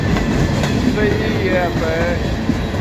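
Freight train cars roll past at close range near Abbeville, with a steady rumble, rhythmic clickety-clack and brief wheel squeal while someone speaks over the passing train.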